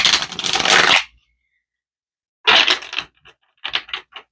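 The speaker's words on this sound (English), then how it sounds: "Let's give it one more good shuffle just because you're my first reading today." Tarot cards are shuffled in close, loud bursts of riffling and slapping: one long burst, a pause, then several shorter choppy bursts, with no talk.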